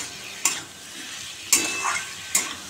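Spiced papaya curry with cumin and turmeric sautés in a pan under a soft, continuous sizzle. A spoon scrapes through it three times in sharp strokes, close and without talk.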